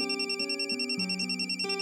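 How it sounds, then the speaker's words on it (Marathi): Telephone ringing during a Marathi TV serial scene, a steady electronic ringtone with a repeating warbling pattern that continues without pause, fairly loud and alone. "तू फोन घे हवं तर"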